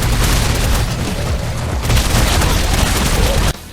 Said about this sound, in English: a very chunky machine gun that is also crazy powerful.